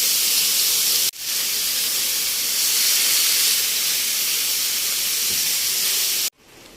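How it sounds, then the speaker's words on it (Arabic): Half a kilo of minced beef fries and is stirred in a pan, a loud, steady hiss of sizzling that cuts out briefly twice, with no speech. "هنزل عليها ب 500 جرام من اللحمه المفرومه، مع استمرار التقليب"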